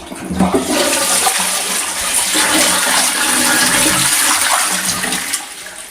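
Water sloshes and pours loudly into a toilet bowl during cleaning, a steady rushing flush-like gush lasting several seconds before tapering off.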